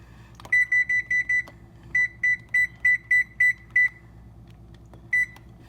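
A kitchen timer beeps in a rapid electronic pattern: a burst of five short tones, a pause, then six more, and finally one lone beep, close and clear.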